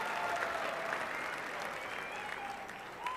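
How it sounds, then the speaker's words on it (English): An audience at a Dancing with the Fort Wayne Stars ballroom show applauds the dancers with steady, sustained clapping. The crowd is fairly loud and fills the hall throughout. "How about another round of applause for these guys?"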